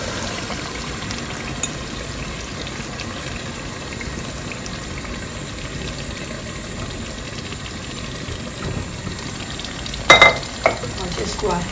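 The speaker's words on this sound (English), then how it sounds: "we'll go ahead and add our tomato sauce" Beef stew with tomato sauce sizzles and bubbles steadily in a pot, a constant frying hiss with a few faint clinks and stirring sounds near the end.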